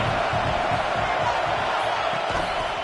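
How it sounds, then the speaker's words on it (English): A football stadium crowd at an FSU versus UF game keeps up a continuous roar of broad, steady noise throughout. "This crowd bringing the energy and noise early."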